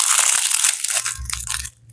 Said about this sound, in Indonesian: Kita tes kriuk, guys.